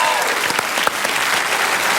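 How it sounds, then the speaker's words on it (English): A TV panel show studio audience breaks into loud, sustained applause, a dense wash of clapping hands that holds steady throughout. "So a big round of applause for Diane Chambers."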